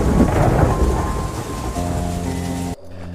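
Steady heavy rain pours down with rumbling thunder, loud and close, then cuts off abruptly near the end.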